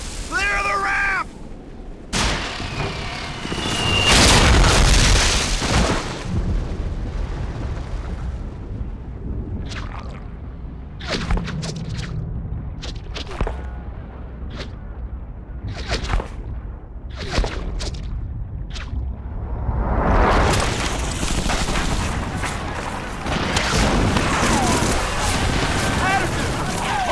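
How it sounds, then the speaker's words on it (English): Artillery strike explosions on a beach in a PS2 shooter video game, heavy booms and blasts mixed with gunfire and shouted voices, loud and continuous throughout. "That artillery strike scattered what's left of our squad all over the beach."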